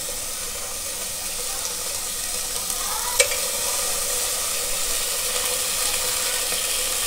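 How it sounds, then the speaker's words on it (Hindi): Fish oil mixture poured into a hot pot and stirred, with a steady loud sizzling hiss throughout and one brief scrape near the middle; no voices. "एक बर्तन में इसको डालना है यहाँ पर हमने एक बर्तन रखा हुआ है गरम इसके ऊपर इसमें डालना है"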